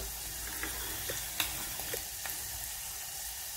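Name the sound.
mixture roasting and sizzling in a pan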